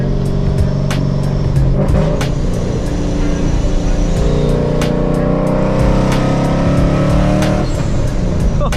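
A loud, powerful Paxton-supercharged S197 Ford Mustang engine roars steadily under hard acceleration, with a deep sustained growl and a faint supercharger whine on top.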